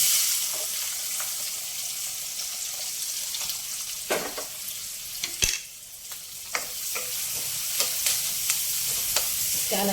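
Green chillies and onion fry with tomato puree and a little fenugreek powder for a paneer mixed vegetable curry, a constant close sizzle punctuated by intermittent scraping and clicking stirs of the spoon against the pan.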